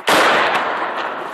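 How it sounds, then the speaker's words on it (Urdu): A sharp, loud blast from an airstrike in a residential area, one sudden boom that cuts in hard and then rumbles on in a long, dense decay. "ایک اور دھماکہ ہوا۔"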